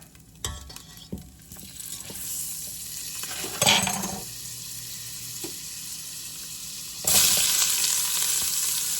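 A good chunk of butter sizzles in a pan with lightly browned beef, crackling softly with a few clinks, then surging into a louder, brighter hiss near the end. No voices.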